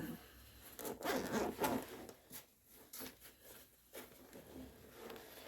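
Zipper on the large main compartment of a Vanquest Carbide 8 EDC pouch pulled open in a few close, rasping strokes, loudest early then tapering into softer, shorter tugs with no voices.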